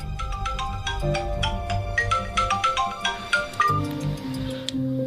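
A phone ringtone plays during a call as a bright, repeating melodic electronic tune over a low background hum, close and without speech.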